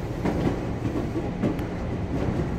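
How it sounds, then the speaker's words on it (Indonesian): A commuter train rolls into Jatinegara station in Jakarta with a steady rumble and rhythmic clickety-clack of wheels over the rails, heard from on board, with faint squeals and no voices. "Sesaat lagi, kereta akan tiba di stasiun Transit Jatinegara."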